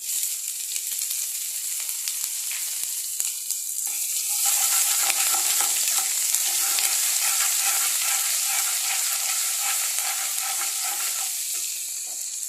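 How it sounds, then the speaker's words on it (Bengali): Ginger paste and black cumin frying in a pan over medium heat, stirred continuously; a close sizzle that swells louder after a few seconds, with rhythmic scraping and clinking of the spoon. "আদা বাটা দিয়ে বেশিক্ষণ নাড়ালেই হবে।"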